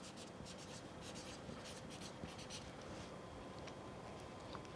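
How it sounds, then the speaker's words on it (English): Handwriting on paper, a steady close scratching of pen or pencil strokes in short repeated bursts, quiet and alone with no talking. "I'll write that."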